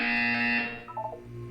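A harsh electronic buzzer from the video game Portal 2 blares loudly and steadily for over half a second, then fades as a few short descending tones and a low hum follow.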